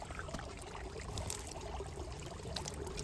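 Water pours and splashes softly and continuously at an outdoor hand-washing spot, a gentle, fairly faint stream with no voices over it.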